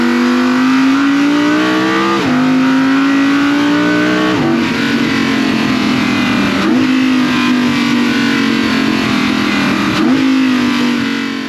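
2022 Audi R8 RWD with its V10 engine revving hard and loud, pitch climbing through several gears, each climb broken by a quick shift drop. No talking.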